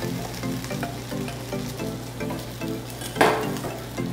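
A tortilla hits a hot pan and sizzles loudly and steadily at close range, with rhythmic stirring scrapes and a brief sharp clink near the end, and no talk.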